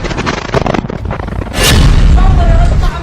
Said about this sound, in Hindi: फिर धमाका एक दूसरे कैमरे से रिकॉर्ड किया जाता है